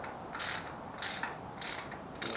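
A ratchet on a wobble extension working on rusted intake bolts of a 305 small-block Chevy engine, four short bursts of rapid clicking at an even pace, close and fairly quiet with no talk.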